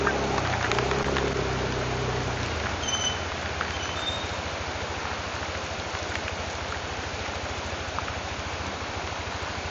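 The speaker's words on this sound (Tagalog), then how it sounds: "Lakas ng ulan." Heavy rain pours steadily outdoors near a village shop and a tamarind tree, a dense even hiss of drops drumming on surfaces that holds constant throughout with no talk over it.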